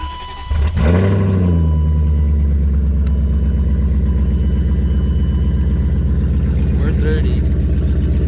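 A loud car engine with an unmuffled exhaust starts up close by and settles into a steady, booming idle that continues throughout.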